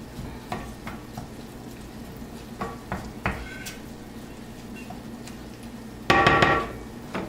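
Sausage cooking in a pan on the stove, a low steady sizzle under intermittent clanks and taps of utensils, with a louder burst of hissing and scraping near the end.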